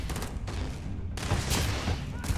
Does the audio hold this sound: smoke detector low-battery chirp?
no